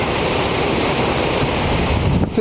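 Ocean swell and breaking waves at the Sendai Shinko breakwater in Japan, a steady, dense roar of surf mixed with wind noise on the microphone, continuous and loud with no voices.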